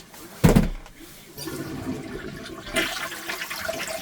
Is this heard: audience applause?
no